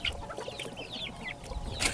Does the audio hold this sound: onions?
no